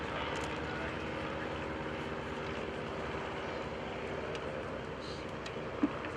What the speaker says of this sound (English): That silver aircraft that you see flying by